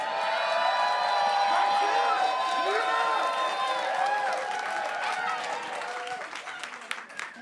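A studio audience at a comedy panel show claps and cheers in a steady wash of applause that slowly thins out toward the end, with scattered whoops.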